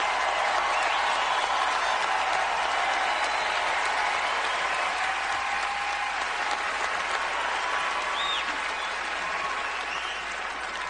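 An awards-show crowd at the Grammys keeps up long, even applause for Bad Bunny, a wide wash of many hands clapping with faint cheers mixed in, holding level before easing slightly at the end.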